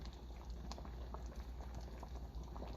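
Meat and onions simmer slowly in a pan, giving off a faint, even bubbling and gentle sizzle with no voices.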